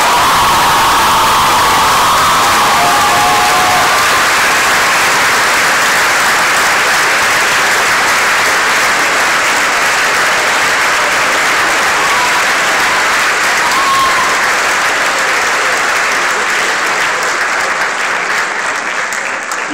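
Sustained audience applause at a school graduation and principal's list ceremony, a dense, loud wash of many hands clapping that continues unbroken, with no speech heard over it.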